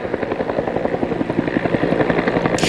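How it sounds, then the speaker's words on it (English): Firefighting helicopters work over the Gibraltar wildfire, rotor blades thumping in a fast, steady rhythmic chop that stays loud and fairly close throughout. "helicopters are making their rounds, picking up and delivering water to the fire"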